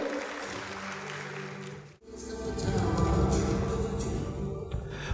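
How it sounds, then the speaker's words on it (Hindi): Audience applause welcoming a speaker at a tech fest in Pakistan, a broad crowd clapping that swells after a brief pause and holds steady and fairly loud to the end. "लेडीज एंड जेंटलमैन, आपकी भरपूर तालियों में"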